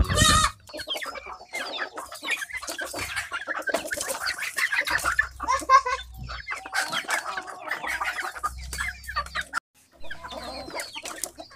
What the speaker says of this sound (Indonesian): beginilah ayam kampung jenis umbaran teman-teman